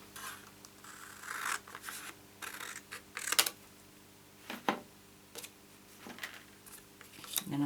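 Scissors cut cardstock during card-making with a series of quiet, crisp snips spaced irregularly, some sharper and louder than others, with no voice over them.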